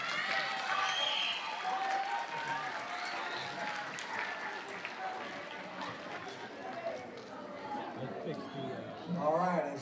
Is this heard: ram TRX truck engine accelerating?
no